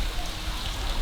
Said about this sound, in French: Sous un pont, sous la pluie.